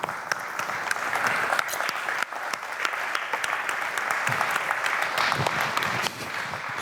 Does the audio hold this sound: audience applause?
yes